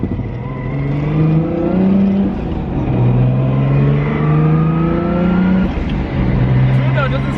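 Nissan R33 Skyline with an RB26 engine accelerates hard under boost, its loud rising engine tone climbing through repeated pulls with brief dips between gears, recorded from inside the car while people talk over it.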